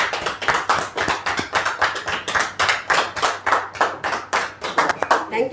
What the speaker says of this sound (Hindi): प्लीज़ रेखा मैम, जोरदार तालियों के साथ आप स्वागत कीजिए